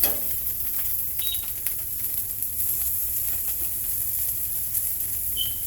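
A birria taco stuffed with shredded mozzarella fries on a griddle, giving a steady, quiet sizzle and hiss that runs unbroken, with a few faint clicks and small pops.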